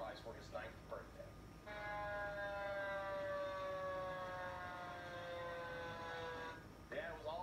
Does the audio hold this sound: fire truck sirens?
yes